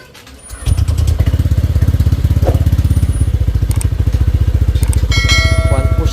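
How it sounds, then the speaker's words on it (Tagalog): A Honda Click 125 v3 scooter, bored to 160cc with big valves, starts after a brief crank and settles into a loud, close, steady idle with rapid regular pulsing; a few knocks and clatters sound near the end. "So yun, start na natin yung motor natin."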